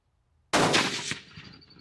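A single sharp, loud .204 Ruger rifle shot fired at a groundhog about 170 yards away, cracking suddenly out of near silence and trailing off in a brief echo, with no voices.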